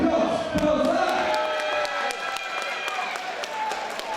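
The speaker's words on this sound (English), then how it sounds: "Let's have a big round of applause for this Kuba." A boxing crowd at a Contenders Norwich event applauds the winner, with sustained clapping and cheering while an announcer's voice carries over it.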